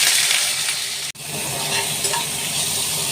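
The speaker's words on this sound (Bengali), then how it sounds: "ওই তেলেই সেদ্ধ করা কচুগুলো ভেজে নেব" Boiled taro pieces frying in hot oil in a pan, a loud close sizzle with stirring that runs continuously, broken once by a brief cut.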